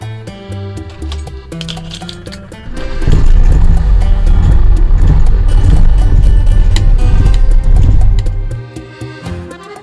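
A classic Lancia Fulvia is driven on the road, its engine rising into a loud, steady roar with clinks and rattles from the cabin before it settles back down.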